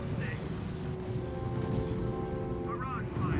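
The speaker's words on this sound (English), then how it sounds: "Sir, the Field Artillery Battalion is opening fire." Artillery barrage from a field artillery battalion in the strategy game R.U.S.E., a steady dense rumble of fire with a brief radio-style voice chirp near the end.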